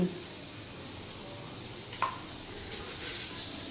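Red amaranth greens frying in a pan while being stirred give off a steady, soft sizzle, with a faint scrape partway through.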